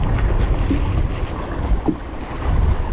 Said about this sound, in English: Sorry about the waves and the wind and everything.